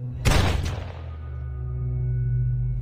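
A gunshot in a war film lands as a sharp, loud blast with a brief rattling burst, then gives way to a sustained low rumble and hum.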